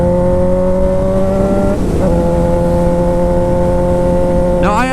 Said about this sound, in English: So I close the throttle, pull in the clutch, pull up on the shifter, let out on the clutch, reapply throttle.